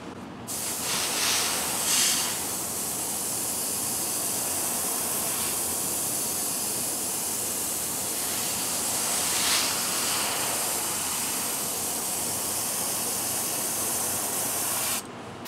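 Airbrush spraying pink paint onto a fishing bait, a steady close hiss running continuously for about fifteen seconds, with a few slight surges in strength.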